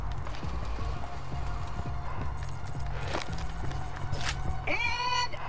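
Horse hooves in Borderlands 2 clip-clop in a steady repeating rhythm at moderate loudness, with game tones and chimes layered over them.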